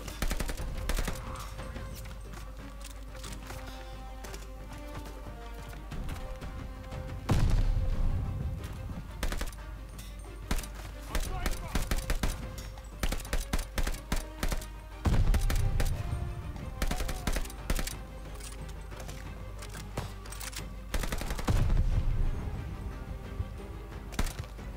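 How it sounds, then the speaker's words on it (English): Enemy machine gun fire in Call of Duty Vanguard, a World War II shooter campaign, rattles in sustained bursts and heavy volleys, dense and loud throughout, with louder surges every few seconds. "Enemy machine gun."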